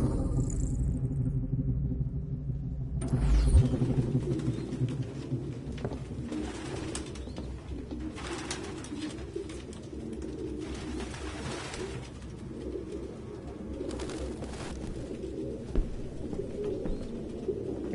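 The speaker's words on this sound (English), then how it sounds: "No human could live with all these fucking pigeons." Pigeons coo in low, soft, repeated rumbling calls inside an apartment in the video game Detroit: Become Human, several birds overlapping close by against a quiet room tone with occasional rustles.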